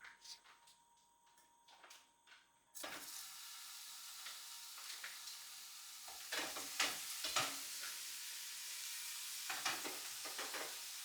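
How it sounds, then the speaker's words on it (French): Ground beef steaks fry in a pan. A few light ticks and clicks come first, then a constant crackling sizzle with scraping stir sounds that grows louder and busier over time. "Hop, je mets les steaks."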